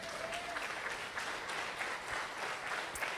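A church congregation applauds during a sermon with steady, dense clapping that holds for the whole stretch and sounds moderately distant in a large room.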